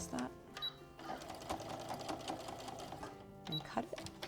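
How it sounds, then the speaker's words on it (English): A sewing machine closes a seam on a fabric project bag, running in a quiet, steady close whir with a couple of brief backward-stitch pauses and clicks near the start and end. "Reinforce it at the end with a couple of backward stitches."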